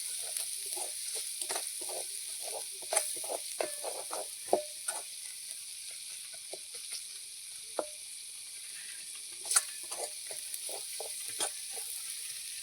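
Turmeric with chilli powder, masala and coriander powder roasting dry in a pan at home: a steady soft hiss with scattered small pops and clicks, close and fairly quiet, no voices.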